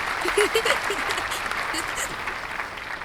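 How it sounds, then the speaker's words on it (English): Audience applause at a hurricane season kick-off event, dense and steady clapping from a crowd that swells loud at first and then eases slightly, with voices mixed into the noise. "so clap it up louder"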